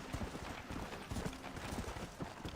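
A horse's hooves clip-clop in the Red Dead Redemption video game, a steady quick rhythm of soft thuds at low volume over a dense background wash.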